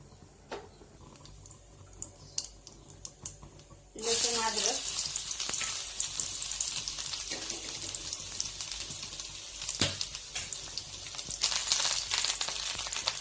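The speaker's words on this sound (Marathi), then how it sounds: "भाजी बनवण्यासाठी मी एक पळी तेल ओतले आहे त्यामध्ये थोडीशी जिरी" Cumin seeds sizzle in a ladleful of hot oil for a green chickpea bhaji, a quiet start then a sudden loud crackling fry that stays steady, with occasional stirring clinks; no one talks.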